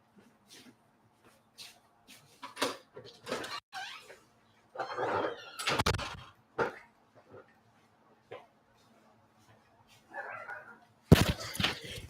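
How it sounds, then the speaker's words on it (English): A dog scratches and paws at a back door indoors, giving scattered scuffing and shuffling bursts with a few short yelps or squeaks, while someone talks quietly nearby. "the dog's scratching at the back door"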